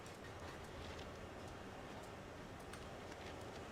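A CSX GP40-2 locomotive train rolls downhill on the Power Line in Train Sim World, giving a steady low rumble of wheels on track. Faint clicks and ticks sit over the continuous noise, with no talk.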